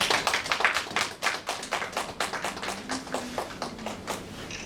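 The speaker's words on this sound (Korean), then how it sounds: "박수로 축하할까요?" A church congregation claps in celebration during a gift presentation, a fairly close, irregular patter of many hands with distinct individual claps, lasting several seconds, with a faint voice briefly humming beneath.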